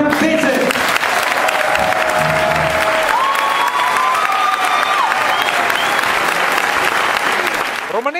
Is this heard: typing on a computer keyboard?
no